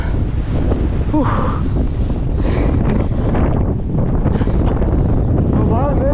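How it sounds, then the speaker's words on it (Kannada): Strong wind buffets the microphone on foggy, misty Madhugiri hill during a trek, a loud, continuous roar with brief voices in the background. "ಗಾಳಿ"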